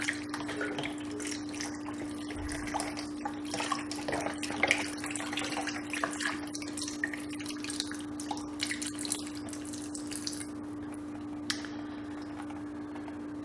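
A full 32-ounce box of chicken broth pours into a soup pot for homemade chicken noodle soup, giving a continuous liquid splashing and trickling with small drips, steady and close, over a faint background hum.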